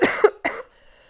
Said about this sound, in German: Sorry, Alter, meine Husten.